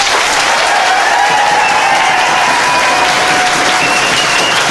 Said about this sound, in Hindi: ताली बजाइए सर के लिए